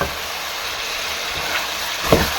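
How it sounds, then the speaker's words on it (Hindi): Chicken frying in ghee in a karahi, a steady close hiss and sizzle with small crackles and a couple of louder spatters or stirring knocks near the end, no talking. "घी में अच्छी तरह से फ्राई कर लेंगे। चिकन को अच्छी तरह से भून लूंगी मैं।"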